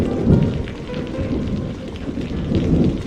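Heavy rain pours down steadily and close by, a dense continuous wash with low rumbling swells that may be thunder, loud throughout and without voices.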